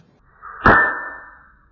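A single sharp metallic snap as the blade of a Kizer Megatherium folding knife swings out and locks, followed by a brief ringing tone that fades over about a second.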